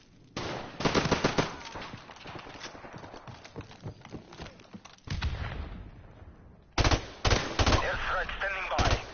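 Pistol fire in the Call of Duty Modern Warfare Remastered video game, sharp loud clusters of shots in several bursts separated by quieter stretches of game noise.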